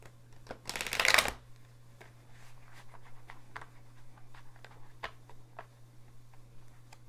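A deck of tarot cards is shuffled close up in one loud riffling burst lasting about a second, followed by quiet light taps and handling sounds over a low steady hum.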